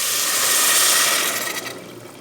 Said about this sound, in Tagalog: Lagyan na natin siya, guys, ng tubig.